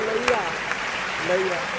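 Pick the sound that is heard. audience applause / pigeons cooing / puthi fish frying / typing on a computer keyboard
audience applause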